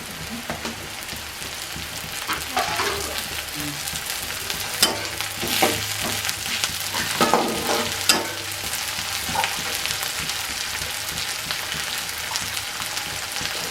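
Sliced onions and chopped green chili frying and sizzling in a pan, a steady hiss with a few stirring scrapes and clatters in the middle, no talk.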